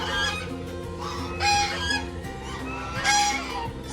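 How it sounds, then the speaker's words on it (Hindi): Many ducks gather at a farm in Gurgaon, with steady overlapping bird chatter and calls throughout and two louder bursts of calling partway through. "बहुत सारी डक्स है."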